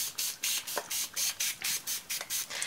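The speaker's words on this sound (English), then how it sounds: "I can spray some water here" Water spritzed from a spray bottle onto an art journal page, about a dozen quick hissing bursts in steady rhythm, close and fairly quiet.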